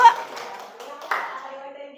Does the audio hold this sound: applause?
yes